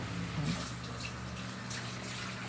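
Dishes being washed under a running kitchen tap: a steady, close stream of water splashing into a sink, with no speech.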